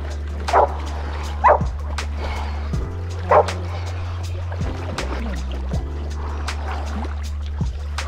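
A dog barks in a few short, sharp bursts outdoors at a wake park beside water, with a steady low hum underneath and people talking nearby.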